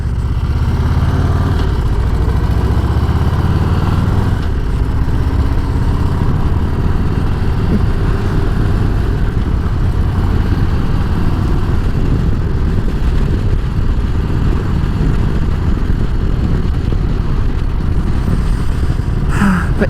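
An adventure motorcycle engine on dirt roads gives a steady, loud, continuous low drone with a rough rumble that holds unbroken for the whole stretch.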